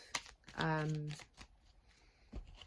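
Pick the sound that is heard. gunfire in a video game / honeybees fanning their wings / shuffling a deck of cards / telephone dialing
shuffling a deck of cards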